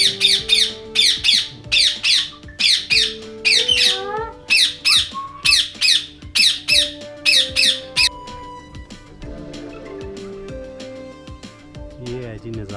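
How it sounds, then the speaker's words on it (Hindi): A pair of parrots on a farm squawk in loud, rapid bursts close by, repeated through the first eight seconds, while softer whistles and background sounds continue. "ये बड़ा खूबसूरत एक जोड़ा है जी तोतों का"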